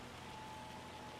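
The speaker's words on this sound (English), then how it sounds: "Still hailing." Steady hail falling outdoors as the weather brightens, a dense even patter of small impacts with no breaks across the short stretch, moderately loud and close, no voices.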